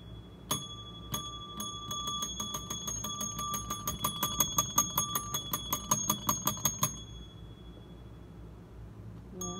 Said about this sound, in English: pretty cool bell.